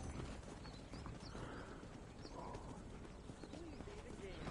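Horse hooves clip-clop steadily in the Red Dead Redemption video game, with a brief whinny, set against a dense, constant game soundscape and faint talk.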